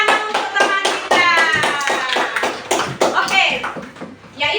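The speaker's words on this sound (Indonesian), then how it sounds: "tepuk tangan untuk teman kita" Classroom applause as students clap for a classmate, a loud burst of hand claps running throughout with voices talking over it.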